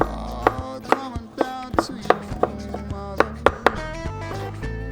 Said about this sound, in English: Let's give these a rough chop.